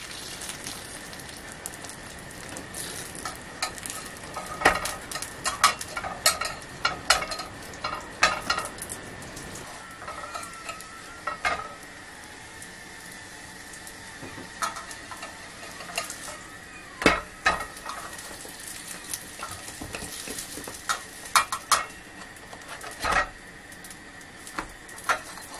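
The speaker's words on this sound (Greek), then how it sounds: "Λοιπόν, τηγανίζουμε." Pita breads for souvlaki frying in a little oil in a pan, a continuous crackling sizzle broken by sharp pops and clatters as the breads are stirred and turned, close up with no voices.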